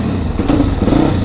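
A motorcycle engine in a warehouse fires up and settles into a loud, close, steady idle with a couple of small revving swells, no talking over it.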